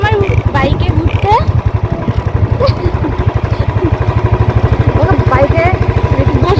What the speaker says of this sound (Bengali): খুব ভালো লাগে তোমার বাইকে ঘুরতে?